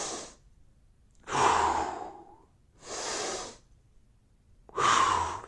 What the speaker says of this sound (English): Now here is the breathing